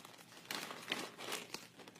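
A plastic bag holding playing cards crinkles close up and quietly, a rustle of small crackling bursts that lasts about two seconds.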